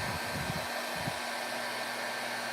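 A heat tool blows hot air to warm varnish on a decoupage piece, a steady close broadband whoosh held at an even level throughout with a little low rumble early on.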